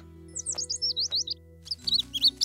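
Cartoon baby bird chirps in quick high-pitched tweets, a run of short bright calls, a brief pause, then another burst, heard close and clear over faint background tones.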